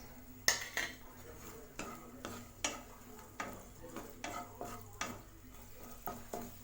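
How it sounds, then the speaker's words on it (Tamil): Raisins and cashews frying in ghee for rava payasam, a soft sizzle beneath regular, evenly spaced clinks of a spoon stirring against the pan, quiet and close. "இப்போ இது கூடவே நம்ம உலர் திராட்சை சேர்த்துக்கலாம்."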